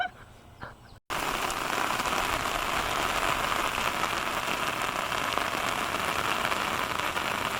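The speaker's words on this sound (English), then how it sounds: "The rain here wasn't going to let up." Heavy rain pours steadily onto a tent in the Ecuadorian highlands, a dense unbroken hiss that starts abruptly after a short quiet moment and continues loud and close to the end.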